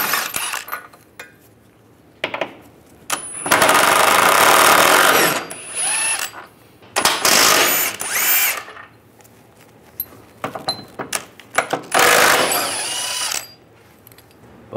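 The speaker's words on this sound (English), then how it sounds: "Using a 21mm socket, take these bolts out." Power tool with a 21mm socket removing cradle bolts on a 1998–2010 Volkswagen Beetle front suspension, loud bursts of whirring and ratcheting separated by pauses, with metallic clinks between runs.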